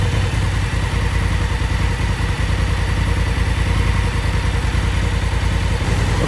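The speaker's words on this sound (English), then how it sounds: "so we just left the bike running" A 2018 Honda Africa Twin motorcycle engine idles steadily and close by, with a low, even rumble and light mechanical clatter throughout and no speech.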